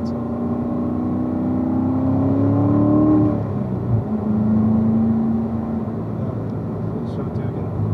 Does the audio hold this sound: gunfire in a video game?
no